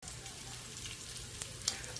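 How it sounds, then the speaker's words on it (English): Onions sizzle steadily in an Instant Pot, a soft continuous crackle and hiss with a couple of brighter pops near the end, quiet and without talk. "those onions there are sizzling away"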